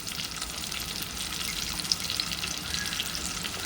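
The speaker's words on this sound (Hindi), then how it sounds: "मसालों का हम अच्छी तरीके से भुनाई करेंगे" Ground dry spices, turmeric, red chilli and coriander powder, roast in a pan with shrimp masala, giving a steady hissing sizzle with soft scraping, close and moderately loud, with no voices.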